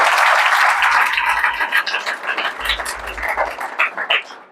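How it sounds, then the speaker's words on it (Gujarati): A church congregation applauding loudly, a dense burst of clapping that is strongest at the start and then thins into uneven, fading claps. "પ્રભુના માટે જોરદાર તાળી પાડે"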